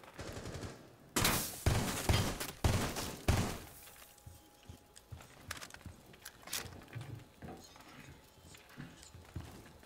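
Rapid bursts of gunfire from a player's weapon in Rainbow Six Siege ring out loud and close in a cluster, then give way to scattered quieter shots, footsteps and background game noise.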